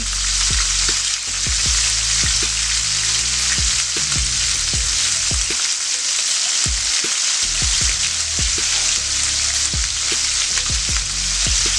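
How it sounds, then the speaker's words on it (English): Pieces of barbacoa meat sear in a hot pan with a loud, dense, continuous sizzle. Scattered crackles and pops rise over it, close up and with no talk. "And we're just going to sear those off. Get a nice color on them."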